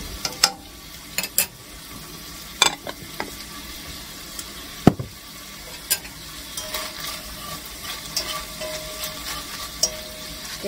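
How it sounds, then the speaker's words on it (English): Butter and olive oil sizzle quietly in a frying pan before potatoes go in, a steady soft crackle broken by sharp clicks and clinks of utensils against the pan. "I like to cook with olive oil and butter. So, and put a big lot of butter in there."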